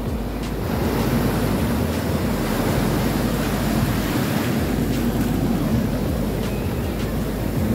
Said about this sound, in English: Big waves coming.